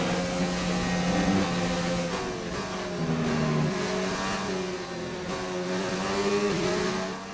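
A race car accelerates hard out of its pit stop down the hangar straight, its engine note climbing, dropping at gear changes and climbing again, loud and continuous.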